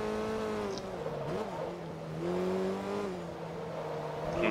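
Volkswagen Golf GTI engine with enlarged displacement revving in the racing game Forza Motorsport 2, a steady tonal drone that rises and dips with throttle changes, ending with a louder surge.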